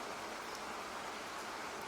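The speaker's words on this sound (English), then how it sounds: "And finally, stream sounds like this." Continuous rushing water of a flowing stream, a smooth, bright babble that stays steady and fairly close: the stream background sound in macOS Ventura.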